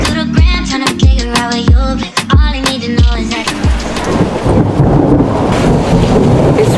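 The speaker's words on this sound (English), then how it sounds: "It's raining heavily" Heavy rain hisses steadily while deep booming thunder strikes repeatedly, loud and close, then gives way to a dense, continuous downpour.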